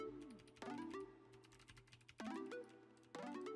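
Three bursts of quick, clicky keystrokes on a Ducky Mecha Creator mechanical keyboard, with pauses between runs of typing, close and crisp against a quiet room.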